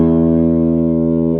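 A distorted electric guitar plays through a Vintage 30 speaker whose tone is altered by a diode in its wiring. It is a single loud, sustained, buzzy chord held steadily for a moment with no talking.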